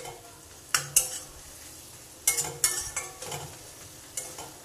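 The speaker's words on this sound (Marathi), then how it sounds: "हलवून घेऊयात व्यवस्थित मिक्स करून घेऊयात" Masala with dried shrimp (suka javla) being stirred in a pan, several sharp scraping strokes of the spoon against the pan over a soft sizzle, close and fairly quiet, with pauses between strokes.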